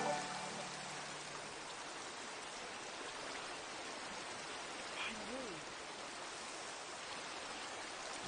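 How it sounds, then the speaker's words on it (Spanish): Heavy rain falls as a soft, even hiss that stays constant throughout, fairly faint and distant-sounding, with a brief faint tonal sound midway. "Está lloviendo un gacho."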